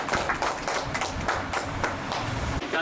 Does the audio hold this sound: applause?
yes